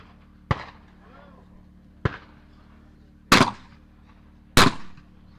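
Four sharp shotgun blasts ring out during a simultaneous clay target shooting competition, spaced unevenly over a few seconds. The last two are louder and fuller, each followed by a brief trailing echo across an open range.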